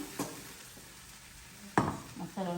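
Masala frying in a pan, a soft steady sizzle broken by a few sharp scrapes and clanks of a spoon stirring against the metal, close by, with brief voice sounds near the end.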